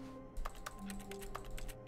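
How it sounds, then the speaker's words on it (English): Keyboard clicks from The Stanley Parable office game, a few sharp separate taps spaced irregularly over a low steady hum and background music, fairly quiet and close. "Wait, why is clicking a sound off a keyboard?"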